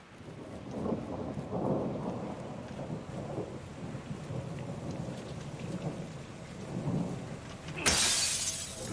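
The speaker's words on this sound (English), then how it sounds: "It's raining fucking hard." A heavy downpour with rolling thunder in the Call of Duty Modern Warfare 2 campaign, steady and loud throughout, with deep rumbles swelling and fading and a sudden bright crack-like burst near the end.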